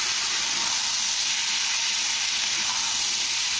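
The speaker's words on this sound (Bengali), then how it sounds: "তো লাউ ডাঁটাটা দিয়েও আলুর সঙ্গে একটু ভালো করে নাড়াচাড়া করে নিতে হবে" Bottle gourd stems and potatoes sizzle steadily in a hot frying pan, a close, loud, continuous hiss with faint stirring underneath.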